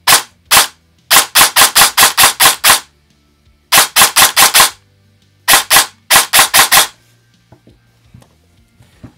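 A custom airsoft M4 replica rifle on a Mancraft CNC receiver with a V2 gearbox fires sharp, loud bursts of rapid shots with short pauses between groups, close up, followed by faint clicks and no talk.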